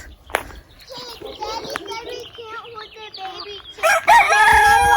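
An aggressive farm rooster crows nearby among other fowl clucking, ending in a loud, strained cock-a-doodle-doo, while children talk over the scene.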